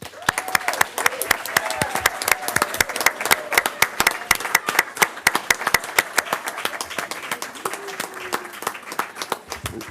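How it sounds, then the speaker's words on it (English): An audience at a city council meeting breaks into sustained applause, a dense run of sharp, close hand claps that rises and falls in bursts for several seconds. "Please join me in a round of applause and celebrate our distinguished citizen, Carolyn Reichert."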